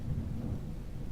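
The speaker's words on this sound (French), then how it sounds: "Putain mais il pleut tout le temps dans ce jeu." Steady rain with a low rumble of thunder in the video game Fallout 4, a constant, dense wash of loud storm noise that runs unbroken throughout.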